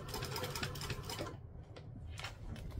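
A sewing machine top stitches over folded fabric on a fringed doll project, running steadily for about a second and a half before slowing to short, softer bursts, close and without talk.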